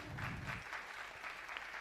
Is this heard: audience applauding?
yes